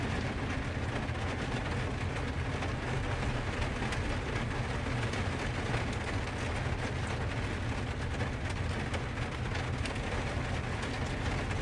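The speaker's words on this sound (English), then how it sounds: "I'll be dedicated in a minute when it stops raining." Heavy rain pouring down outdoors in a dense, unbroken hiss that stays loud and even throughout, with no voices.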